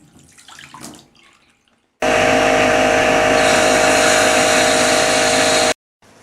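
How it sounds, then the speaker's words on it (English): Antifreeze pours down a bathtub drain into the P-trap, a loud, steady rushing stream lasting a few seconds and cutting off abruptly, preceded by faint handling noises. "Be sure and get some antifreeze down inside that P-trap in your bathtub."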